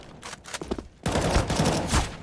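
Rapid gunfire rattles in the video game CS:GO. Sparse shots give way to a loud, dense, continuous burst of bullets in the second half.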